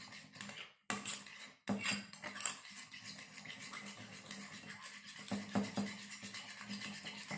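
Homemade slime being mixed and stirred in a container, air freshener added, giving soft scraping and squishing strokes in an uneven rhythm, close up, with brief gaps between bursts.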